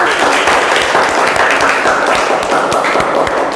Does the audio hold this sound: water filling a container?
no